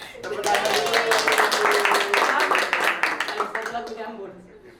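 Dense applause from a crowd, a steady wash of many hands clapping that gradually fades toward the end, with some voices mixed in.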